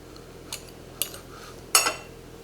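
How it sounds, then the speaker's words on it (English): A fork and knife cut through a slice of avocado toast topped with a poached egg, giving three separate sharp clinks and scrapes against a plate over a quiet background. "Cut a slice of toast,"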